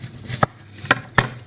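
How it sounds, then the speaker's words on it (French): Three sharp, evenly spaced knife chops as an onion is cut into rings for caramelized onions on a cutting board, close and crisp with quiet gaps between strokes. "je vais couper mon oignon pour mes oignons caramélisés. Je vais les couper en rondelles"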